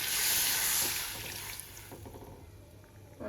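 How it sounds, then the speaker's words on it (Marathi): Water is poured into a cooking pot of potatoes and pakhat in masala, a soft splashing rush that fades into quieter trickles and small clinks. "टाकते पाणी"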